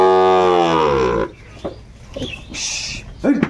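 Sahiwal cattle give one long, loud, low moo lasting over a second, followed by faint scattered noises in the background.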